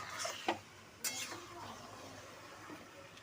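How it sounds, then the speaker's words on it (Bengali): Chicken pieces being stir-fried in a pan for a thin home-style chicken curry, with a few sharp scrapes and clinks of a spatula against the pan over a low, steady sizzle. "ভালোভাবে কষিয়ে নেব মাংসটা।"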